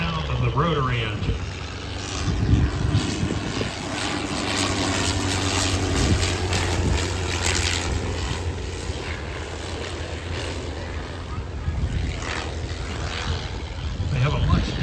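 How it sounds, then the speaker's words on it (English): A WW1-style triplane with a rotary engine passes at an airshow, its propeller drone a rough, growling roar that stays loud and steady throughout while a voice talks over it. "Now listen to the sound of the rotary engine."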